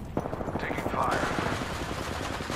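Automatic weapon fire in the battle royale game Apex Legends, rapid regular bursts of shots rattling steadily throughout, loud and close, with a brief muffled voice mixed in.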